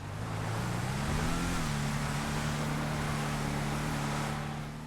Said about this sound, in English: listen to the wonderful droning sound of this car's engine